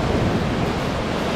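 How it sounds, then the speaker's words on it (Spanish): Rough sea waves crash and churn against the shore at Palomino, Colombia, as a dense, continuous roar of broadband surf mixed with wind buffeting the microphone, loud and steady with no voices. "El mar súper agresivo,"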